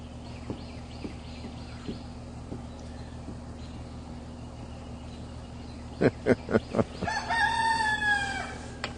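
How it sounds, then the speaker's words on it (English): A rooster crows loudly nearby after a few sharp clucks, the drawn-out call rising and falling over faint background chirps. "that rooster's got to get his 2 cents in every few minutes"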